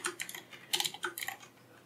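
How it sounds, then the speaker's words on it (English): Quick bursts of keystrokes on a computer keyboard, a dozen or so close, crisp clicks in uneven clusters, heard alone with no talk. "Man, I can't type."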